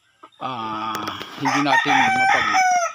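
Roosters crow loudly with harmonic calls, overlapping with chicken clucks and squawks, a busy close-range flock sound throughout.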